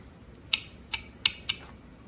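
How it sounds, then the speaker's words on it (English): Four crisp metal snips as tin snippers trim a small metal piece for a model horse marathon carriage, close and quiet, spaced unevenly over about a second. "I'm going to trim that with the snippers"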